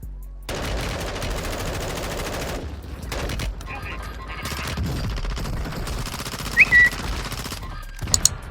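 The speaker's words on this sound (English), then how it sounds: "They're shooting at me." Bursts of gunfire in Warzone 2.0 on Ashika Island: rapid automatic fire and scattered shots over several seconds, loud and close with game ambience, with short breaks and a few sharp spikes near the end.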